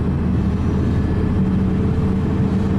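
An Audi 80 drives along with worn wheel bearings, a loud, constant low growling drone and road rumble from inside the car, steady and unbroken.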